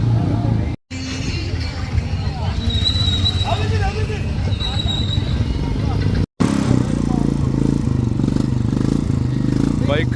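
Motorcycles gather for a Milad bike rally in the rain at Rockwood Estate in the Nilgiris, Tamil Nadu. Engines idle and rumble steadily under constant crowd chatter and voices nearby.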